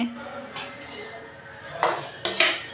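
Dishes and utensils clatter as an aunt serves rice for a Diwali meal, with soft scattered clinks followed by two sharper, louder bursts of metal and crockery near the end.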